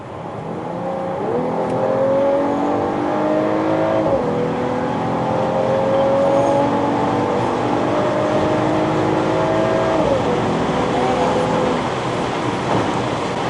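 Mercedes-AMG GT 43 accelerating hard, its engine rising in pitch through several gears with brief dips at each upshift, steady and fairly loud from inside the car, no talk.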